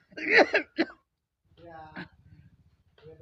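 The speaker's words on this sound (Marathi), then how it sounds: "अरे खोकला रक्त यायला लागलं" Harsh coughing from a person coughing up blood in a dramatized scene: a loud burst of coughs at the start, then quieter throaty, strained sounds with a low hum in the background.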